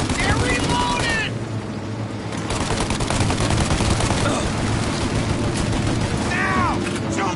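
Dense gunfire crackles through a shootout in the game Mafia Definitive Edition, with rapid bursts and sharp shots running almost continuously under excited in-game voices.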